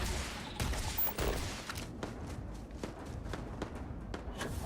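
Gunfire in the sci-fi game Starfield, a rapid string of sharp, fairly quiet shots at a steady rhythm, heard at some distance amid soft background ambience.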